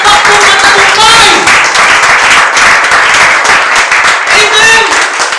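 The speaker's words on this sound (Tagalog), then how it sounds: "Palakpakan natin ang Panginoon. Yung palakpak po na tagumpay." A church congregation claps in praise, loud, dense applause with bursts of cheering voices layered over it, sustained from start to finish.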